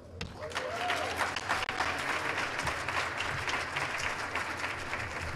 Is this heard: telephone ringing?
no